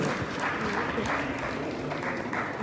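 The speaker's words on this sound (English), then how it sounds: "Can we give her a round of applause?" Audience applause at a Nigerian public event, a sustained broad wash of clapping from a crowd, steady and fairly loud throughout with some voices mixed in.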